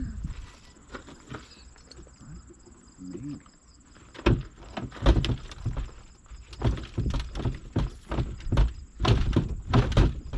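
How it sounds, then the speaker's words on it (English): A car door is worked open by its handle during an auto extrication training exercise: a few dull thunks and clunks at close range over a steady hum of insects and crickets, with no talking. "Pull on the handle, take the door off."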